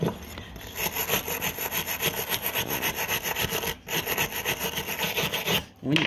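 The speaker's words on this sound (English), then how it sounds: "use that to try and clean all those channels up. Don't use anything too harsh. This is a pretty light brush." A light brush scrubbing the channels of a Honda CBR250RR MC22 motorcycle carburettor, a steady close rasping back-and-forth rub with quick regular strokes and two brief pauses.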